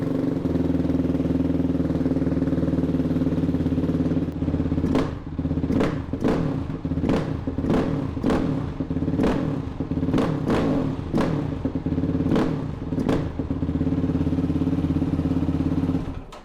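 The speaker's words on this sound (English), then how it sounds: "we're gonna start this thing up so you guys can hear the bog we all know and hate" Motorcycle engine idling steadily, then blipped repeatedly with a series of sharp throttle bursts that stumble and bog before settling back to idle, loud and close.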